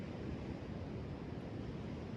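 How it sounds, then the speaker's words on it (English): Pacific Ocean surf and wind make a steady, even broadband rush, faint and distant-sounding, with no distinct individual wave breaks and no voices. "And it's my first time seeing the ocean"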